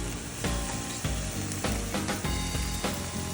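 Chicken barbecue sizzles steadily on a grill, a dense, close crackling hiss with frequent brief pops and a few soft knocks as the pieces are turned or moved.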